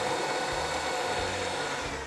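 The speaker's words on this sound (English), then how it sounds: "when you have a stand mixer like this, first beat it a little bit and then add the sugar" A stand mixer beating fruit cake batter with sugar added runs as a steady, loud motor whir with a faint rhythmic churning underneath, close and unbroken, with no talking.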